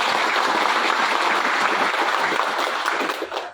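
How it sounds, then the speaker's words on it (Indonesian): Audience at a regional PPP party meeting in West Papua applauding, a dense, loud, sustained wash of clapping from a large crowd that fades out at the end. "mari kita berikan aplaus yang baik"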